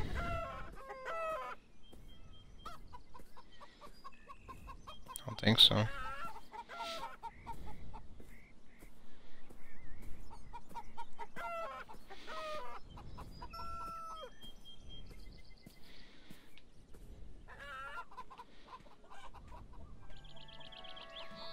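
Chickens cluck and a rooster crows in a pen within the video game Beyond Eyes, with repeated clucks and squawks scattered throughout at a moderate distance, and a brief spoken remark partway through.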